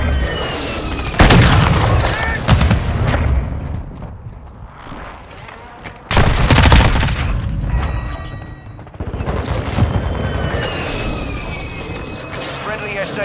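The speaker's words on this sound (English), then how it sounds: "Friendly airstrike on the way." Call of Duty Modern Warfare 2 multiplayer battle with heavy booming airstrike blasts and gunfire, several loud explosive bursts spaced through the scene, with radio-style voice callouts over the chaos.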